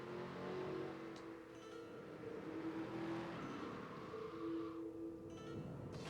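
A car in a retro video game played on original console hardware accelerates with a faint, buzzy engine tone that holds and rises in pitch in short stretches, quiet and without voices.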